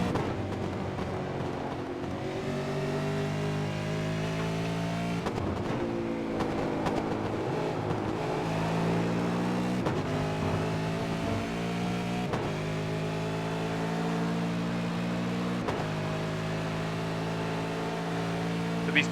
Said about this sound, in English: these 3 Holden cars moving their way around tight twisty section at the end of the track